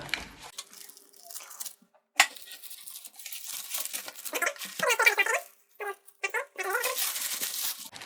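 Wrapping paper ripped off a GT-R photo book during unboxing, bursts of tearing and crinkling in irregular spurts, close and fairly loud, with short pauses between pulls.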